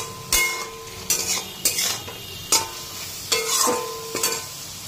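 Curry with green chilli stir-fried in a pan, a soft sizzle under repeated sharp scrapes and clinks of a spatula against metal, about six strokes at uneven spacing, close by.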